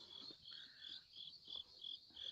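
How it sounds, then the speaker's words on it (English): Crickets chirp in short rhythmic pulses along a hillside path at sunrise, faint and repeating about three times a second. "But I can hear crickets."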